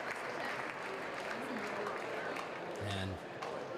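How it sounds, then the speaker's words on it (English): Audience applause fills the stands at an outdoor high school track meet, a steady, broad wash of clapping that runs throughout, with crowd voices mixed in and a brief tonal call near the end. "Let's clap it up for him."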